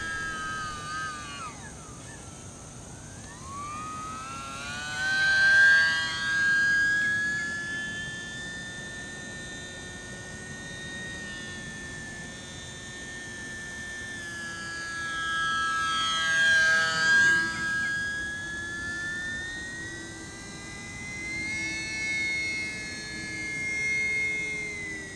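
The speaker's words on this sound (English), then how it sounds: "Audibly, you can definitely tell a difference in sound coming from this bigger, stronger motor." E-Flite UMX Pitts S-1S small electric RC biplane flying with its bigger, stronger motor, a high whining buzz that rises and falls in pitch in repeated Doppler sweeps as it passes overhead and away.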